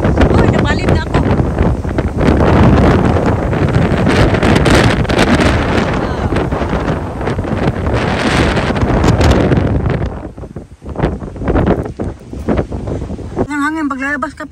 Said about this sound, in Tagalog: Ang hangin, paglalabas ka pala